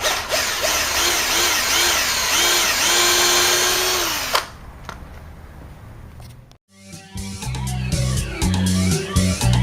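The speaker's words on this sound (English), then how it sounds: "I'm going to pre-drill using a drill" A power drill whines loudly up close as it pre-drills into wood, its pitch rising and falling in short bursts before easing off, then a second harsh drilling run follows.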